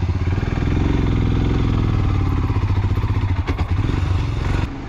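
A motorcycle rides through Zanskar Valley in the Ladakh region. Its loud, close engine chugs steadily with a throbbing rhythm and wind rush, then drops off near the end.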